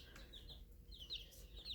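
A small baby chick peeps in short, high, repeated cheeps close by, with soft background noise between calls and no talking.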